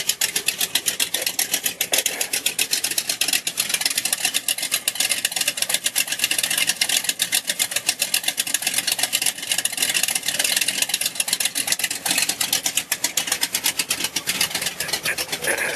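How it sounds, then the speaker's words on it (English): A Buick GS engine idles through a 3-inch exhaust with 12-inch Cherry Bomb glass-pack mufflers, giving a loud, steady, rapidly pulsing rumble that holds close and continuous throughout with no talking. "Got 3-inch exhaust with 12-inch cherry bomb glass packs on it. It is pretty obnoxiously loud at this point."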